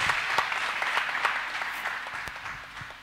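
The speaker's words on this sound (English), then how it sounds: "Let us clap our hands beautifully for Jesus." A church congregation claps their hands together in a steady, moderately loud burst of applause lasting about three seconds, individual sharp claps standing out as it gradually fades.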